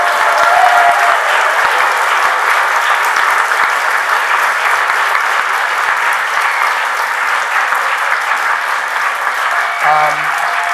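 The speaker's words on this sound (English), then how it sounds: "a big round of applause for everyone who showed up tonight" Loud, sustained applause from a large audience at an all-candidates town hall in Vancouver, a dense, unbroken roar of clapping that carries on evenly before a voice briefly cuts in near the end.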